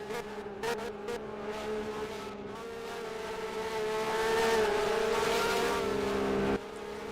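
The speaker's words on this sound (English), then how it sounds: "Here they come down the front straightaway the first time by." Race cars at the 2023 SLC GTI Lakeside Castle race roar down the front straightaway, a sustained engine drone swelling louder and higher in pitch as they approach, then cutting off abruptly near the end.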